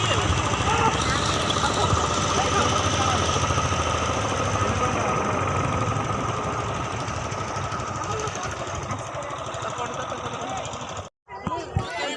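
A boat's motor runs loud and steady with a knocking, chugging drone as the boat pulls up and docks beside a temple, easing slightly toward the end before a brief cut-out.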